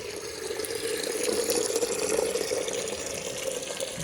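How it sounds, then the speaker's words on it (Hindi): A kitchen tap runs hard under strong pressure, filling a vessel in a home kitchen with a steady, close, rushing stream of water that holds even throughout with no talking. "टूटी भी प्रेशर से पानी दे रही है, आज हमारा साथ दे रही है।"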